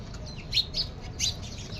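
House sparrows at their nests give a few quick, sharp chirps in a tight cluster, close by, over a low steady background rumble.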